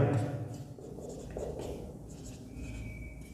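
Chalk or marker scratching across a classroom board during a Class 9 geometry lesson on lines and angles, a steady close scraping stroke sequence lasting a few seconds with no talk over it.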